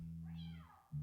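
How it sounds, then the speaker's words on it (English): Two cats meow one after the other, a rising-and-falling cry close by and fairly quiet, over a steady low hum. "Whoa, it's 2 cats."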